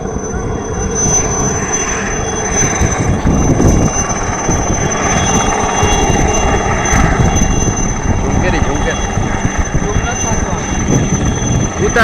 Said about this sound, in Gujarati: હેલિકોપ્ટરનું રિપેરિંગ થયા બાદ હેલિકોપ્ટર રવાના થયું